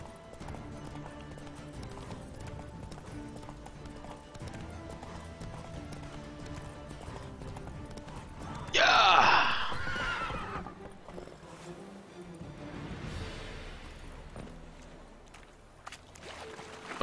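A horse in The Witcher 3 trots with steady hoof clip-clops, then lets out one loud, close whinny partway through before the hooves continue; no one speaks.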